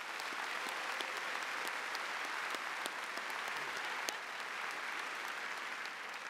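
Quiet, sustained applause from a high school ceremony audience recognizing student council members, an even patter of many hands with occasional sharper claps, heard at a distance.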